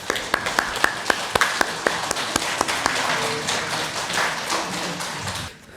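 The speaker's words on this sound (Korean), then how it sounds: "우리 성도들께서는 축하의 박수 전해주시면 감사하겠습니다" Congregation in a Korean church service claps for two people receiving flower baskets, starting with sharp, separate claps that swell into steady, dense applause before cutting off at the end.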